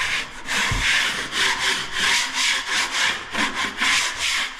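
Metal blade scraping drywall plaster back on a square set doorway opening, a close rhythmic series of rasping strokes, about a dozen in a steady back-and-forth pattern.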